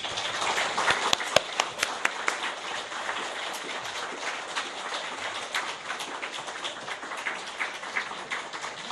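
A church congregation claps in warm welcome for a visiting missionary: dense, sustained applause from many hands, fairly loud and even throughout, with a few sharper individual claps standing out early on.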